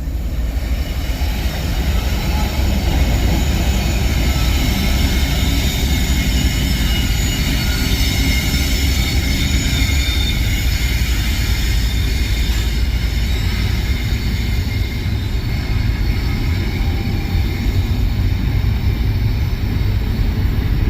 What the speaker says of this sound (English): I know there's going to be someone in the comments probably explaining, like, which locomotives those were.